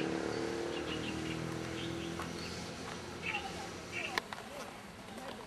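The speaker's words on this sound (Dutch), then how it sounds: "Zoals je hoort, vogeltjes, gekwetter." Birds chirp and twitter near Dianchi Lake in Kunming, small scattered calls in the distance beneath someone speaking and a steady outdoor hum.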